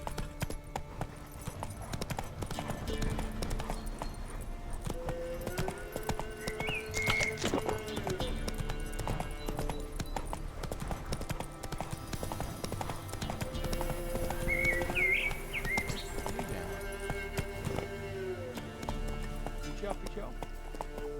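A horse in The Witcher 3 video game gallops with rapid clip-clop hoofbeats and lets out occasional whinnies, running throughout alongside game music and a person talking.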